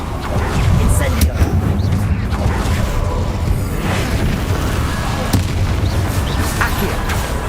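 Incendio fire spell cast in the video game Hogwarts Legacy, a dense, continuous roaring burst of flame with booming low rumble and crackling texture, loud and sustained throughout, with game effects layered over it.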